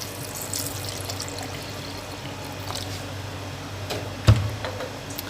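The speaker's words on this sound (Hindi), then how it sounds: "तो मैं इसमें 2 गिलास पानी ऐड करूंगी।" Water poured over phalsa fruit for juice, a quiet trickling pour that builds to a brief louder splash near the end.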